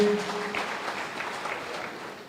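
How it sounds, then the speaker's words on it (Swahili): Audience applause for Cheboi at a Kenyan political function, a steady wash of clapping from a crowd that holds for a couple of seconds and then eases off slightly. "Tumpigie makofi Cheboi."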